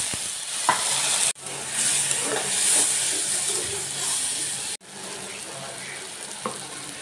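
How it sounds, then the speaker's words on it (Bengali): A little water is added to onions frying with ginger, garlic and salt in a pan for a chicken roast, giving a loud, steady sizzling hiss with occasional clicks and stirring sounds. No voices are heard. "এখন যাতে পেঁয়াজটা না পুড়ে হালকা একটু পানি দিব।"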